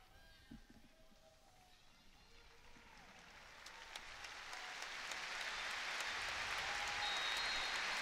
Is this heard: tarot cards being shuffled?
no